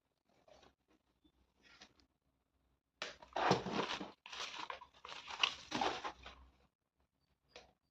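A package being unboxed by hand, with a quiet start and then a close run of crinkling, tearing and rustling bursts of packaging, ending with a brief faint rustle.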